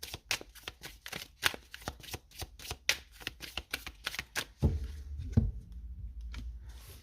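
Playing cards riffled and shuffled in a rapid run of crisp, close flutters, then a few cards slid and drawn with soft thumps toward the end for a tarot-style card reading.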